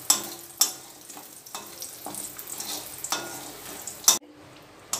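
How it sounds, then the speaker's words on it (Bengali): Lentil dumplings (bori) frying in hot oil in a home kitchen, a steady soft sizzle broken by a few sharp stirring scrapes and clinks, close and alone without talk. "মাছ ভাজার পর আমি এই তেলে ভেজে নেব বড়িগুলো।"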